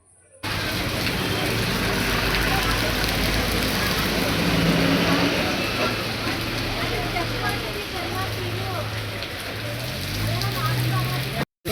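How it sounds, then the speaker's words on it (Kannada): Heavy rain pours steadily onto surfaces in Hiriyur, a loud continuous hiss with a low engine rumble beneath. Voices talk faintly under it before it cuts off abruptly at the end. "ಸೊ ನೋಡ್ತಾ ಇರ್ಬೋದು ಹೆವಿ ಮಳೆ ಬರ್ತಾ ಇದೆ."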